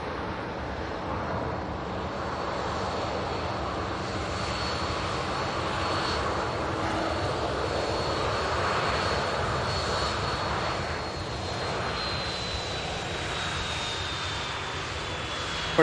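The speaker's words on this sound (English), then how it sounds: "here's the Dreamliner we've been waiting on" TUI Boeing Dreamliner departing Manchester Airport for Paphos, a loud continuous jet engine roar with a slowly falling high whine as it passes, steady throughout with no speech.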